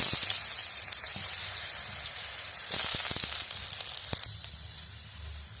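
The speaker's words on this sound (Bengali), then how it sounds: "এবার ওই কড়াইয়ের মধ্যে তেল দিয়ে এবার আমি রাঙালুটাও ভেজে নেব।" Sweet potatoes fry in hot oil in a wok, giving a steady loud sizzle with crackling spatters and a few sharp pops, close up with no talking.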